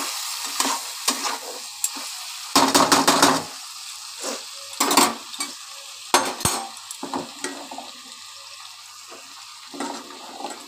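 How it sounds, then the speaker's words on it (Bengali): A spoon scrapes and stirs ghugni spices sizzling in a pan, irregular bursts of scraping and frying with louder clusters of clatter, close and without speech. "এবার একটুখানি নেড়ে নিই, নাহলে নিচে আবার মশলাগুলো ধরে যাবে, পুড়ে যাবে আর কি।"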